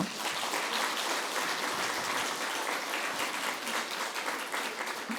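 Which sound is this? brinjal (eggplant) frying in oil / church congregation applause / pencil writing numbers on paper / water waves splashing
church congregation applause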